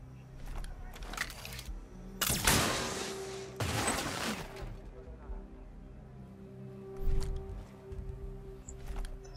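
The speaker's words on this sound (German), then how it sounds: "War der letzte Schuss für das Ding." Gunfire in the tactical shooter Ghost Recon Breakpoint: a few loud, broadband shots cut through in separate bursts, with fainter later reports and a steady low hum of game ambience between them.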